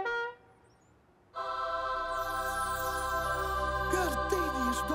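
A chorus of sustained horn tones starts abruptly after a brief quiet moment, blaring steadily and loudly with a few pitch bends near the end.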